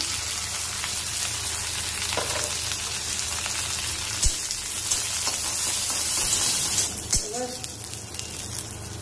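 Curry leaves and mustard seeds sizzle and crackle in hot oil for a chutney, a continuous close frying hiss with scattered pops and a couple of sharp clinks, no speech heard.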